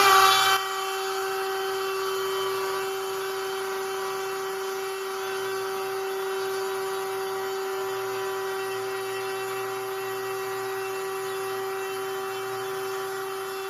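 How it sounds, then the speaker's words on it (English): A router cutting wood on a wedgie sled: a brief louder burst at the start, then a long, steady high-pitched whine that holds evenly at close range. "Next, I'm going to plug in the router."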